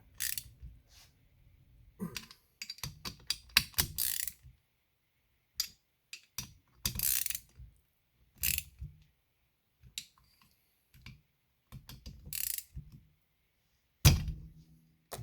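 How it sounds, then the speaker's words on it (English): A ratcheting hand socket wrench tightens bolts on a McCulloch SP81 engine, giving short bursts of close mechanical clicks and thunks separated by quiet pauses. "I'll just use my hand socket here. And I like to go back and forth and across before I really wrench on it."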